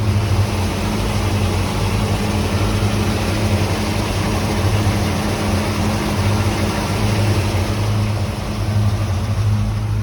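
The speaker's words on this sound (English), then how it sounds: "I decided to go ahead and fire the engines up today just to get them warmed up a little bit." Twin engines of a 1984 Chris-Craft Catalina 381 motor yacht idle steadily while warming up, a deep continuous rumble with an even hum, no pauses and no voices.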